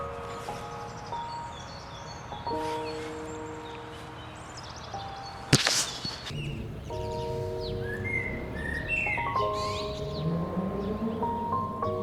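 Birds sing and whistle outdoors in a steady run of clear tonal phrases over a constant hum of passing motorbikes. A sharp louder bang interrupts midway, and no one speaks.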